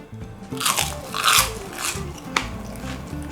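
Crunchy deep-fried takoyaki is bitten and chewed up close, with several loud crisp crunches in a row and no talking.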